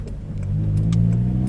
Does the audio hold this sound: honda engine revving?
yes